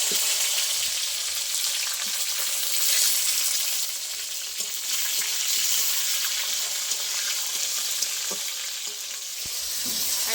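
Chopped tomato hits hot mustard oil seasoned with bay leaves and whole cumin, giving a steady, close, broadband sizzle and crackle that holds for the whole stretch, with no voices over it.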